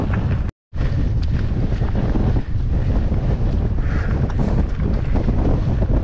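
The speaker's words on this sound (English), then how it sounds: "Woo, now it's really headwind. Headwind with the climb." Strong headwind on a mountain bike climb on a desert trail near Las Vegas, loud continuous wind buffeting the microphone with a roaring rumble, one brief dropout near the start, no talk.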